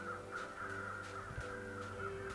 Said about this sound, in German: Hier sind Vögel. Das ist ein Schwarmraben.